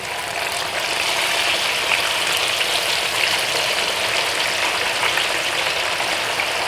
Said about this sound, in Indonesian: Sekarang kita mulai menggoreng kacangnya ya.